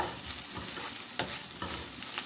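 Spice powders being stirred into onion stalks and egg in a sizzling pan, steady frying hiss under repeated scraping strokes of a utensil, close and continuous.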